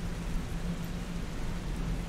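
A storm in the video game Expedition Zero brings a steady, dense hiss of rain with a low rumble underneath, continuous and even throughout.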